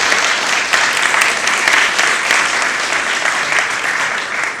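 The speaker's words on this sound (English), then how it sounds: "how about a round of applause for Dr. Andreas Wiegand?" Audience applause at an awards ceremony, steady, dense clapping filling the hall throughout, loud and sustained without a break.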